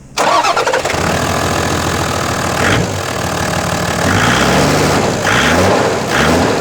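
A car engine cranks and catches, then runs loud and close with a rough idle and a few revs, while the battery warning light shows on the dash.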